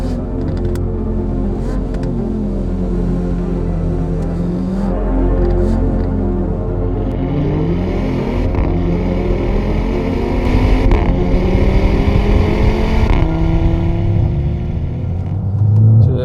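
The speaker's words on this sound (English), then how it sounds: "Now, just listen to that exhaust note." Mercedes-AMG A35 development car exhaust, a loud sustained engine drone that rises and falls through revs with a throaty rumble, brief surges and gear changes, heard alone without talk.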